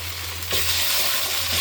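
Ginger garlic paste hits hot oil in a pan with a steady, close sizzle that swells sharply after a brief moment and keeps frying loudly, with a faint stirring scrape and no talk.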